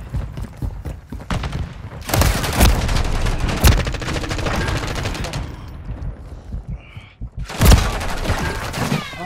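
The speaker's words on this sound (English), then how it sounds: "This is the FW2 weapon." Rapid automatic bursts from the FW2 weapon in Call of Duty: Modern Warfare 3 during a search-and-destroy match, loud and close, with several sustained volleys separated by short pauses.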